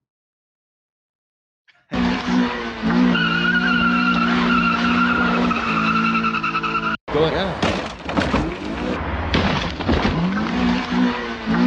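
A Mazda Miata race car skids with loud, sustained tire squeal and engine roar. The sound cuts in abruptly, breaks briefly, then carries on with scrabbling chatter, and voices speak over it.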